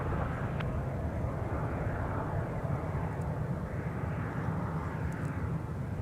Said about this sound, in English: We got the Delta Thank You livery, A321-200, November 3901, Delta November.